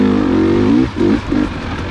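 A 2021 Gas Gas EC300 dirt bike engine roars loud and close, holding a steady buzzing rev before dropping off and blipping twice in quick succession.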